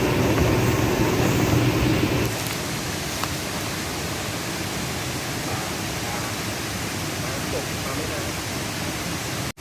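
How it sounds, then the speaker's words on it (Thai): Steady broadband rush of the Erawan waterfall in Kanchanaburi, Thailand, continuous water noise filling the whole clip, louder for the first two seconds then settling to an even roar, with faint voices mixed in. "เราอยู่ที่น้ำตกเอราวัณแล้วนะสวยมากเลย"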